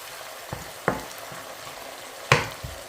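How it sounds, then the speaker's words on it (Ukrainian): Quiet, steady sizzling of dried porcini mushrooms frying in a pan, broken by a few soft clinks and scrapes of stirring. "вже всі гриби смажу до готовності"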